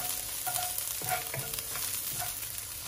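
Ginger and white spring onion stems stir-fry over medium heat in a pan, giving a close, continuous sizzle broken by soft clinks and scrapes of stirring.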